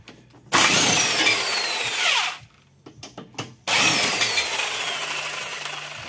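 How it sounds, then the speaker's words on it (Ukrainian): Power tool driving a 16 mm socket to remove the bumper reinforcement bolts on a VW Caddy during an air-conditioning radiator replacement; two loud, sustained whirring runs split by a short pause with clanks. "Далі знімаємо підсилювач, головка на 16."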